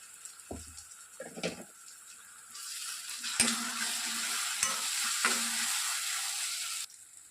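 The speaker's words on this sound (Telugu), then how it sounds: "ఆనియన్స్ లైట్గా వేగిన తర్వాత మనం మిక్సీ పట్టుకున్నటువంటి ఈ టమోటా ప్యూరీని మనం ఇందులోనికి వేసేసుకోవాలి" Tomato puree poured into a pan of lightly fried onions for a mushroom masala curry, first a few soft stirring scrapes, then a loud steady sizzle that holds for several seconds with occasional stirs before cutting off.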